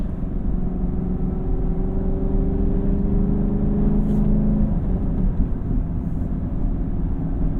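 A 2019 Chevrolet Camaro SS 1LE's engine drones steadily from inside the cabin while cruising, a constant low rumble with a slowly rising tone and no speech.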